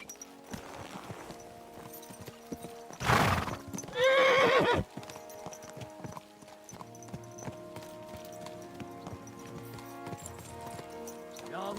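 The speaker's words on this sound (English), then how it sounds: "So mount up and we'll ride out." Horses ridden in the medieval role-playing game Kingdom Come: Deliverance 2, with a steady clip-clop of hooves and a loud neigh partway through, heard under soft background ambience.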